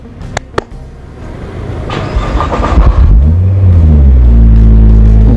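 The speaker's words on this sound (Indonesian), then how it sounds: "lo pasti penasaran dong dengar suara si mesin mobil gila ini" A Nissan GT-R R35 engine starts with sharp clicks, then swells into loud rising and falling revs, building to a deep, sustained roar up close.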